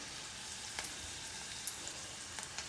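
Fenugreek powder and turmeric frying in oil in a kadai, a faint, steady sizzle with scattered soft pops and crackles and no talking.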